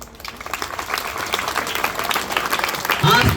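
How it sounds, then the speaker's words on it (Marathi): A crowd applauds newly selected police recruits at an academy selection ceremony, dense clapping swelling louder near the end with voices mixed in. "आज यांचं टाळ्या वाजवत आहे"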